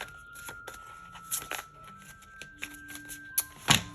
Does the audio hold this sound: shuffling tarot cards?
yes